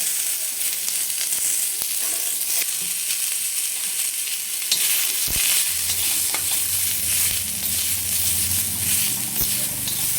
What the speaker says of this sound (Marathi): तर आपण थोडासा कांदा खमंग असा भाजून घ्यायचा.